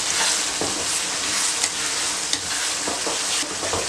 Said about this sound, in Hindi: मैंने तकरीबन 5 मिनट से मटर को भून रही हूँ, और इसमें थोड़ा थोड़ा पानी का छींटा दे रही हूँ